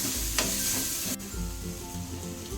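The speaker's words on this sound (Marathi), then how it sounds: "आल्या लसणाची पेस्ट टाकूया मिक्स करू" Ginger garlic paste sizzles and fries in a pan while being stirred for a cashew masala curry, a close, steady crackling hiss with spoon scrapes.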